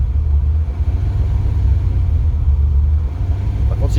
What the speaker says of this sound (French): Et là, le ralenti, il est toujours très faible.